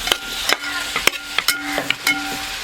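Chopped shallots frying in a pan for a Kuttanadan duck roast are stirred in several sharp spoon scrapes and clinks over a steady close sizzle, with no talking.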